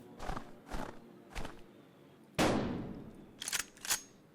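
A hunting rifle fires a single sharp shot at a deer in the farming game Farmer's Father, preceded by a few soft footsteps and followed by faint clicks.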